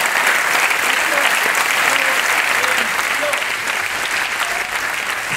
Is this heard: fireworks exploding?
no